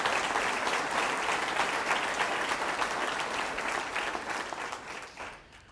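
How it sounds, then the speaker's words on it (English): A meeting audience applauds steadily, dense even clapping that holds for several seconds and then tapers off toward the end, with no talk over it. "give them a round of applause."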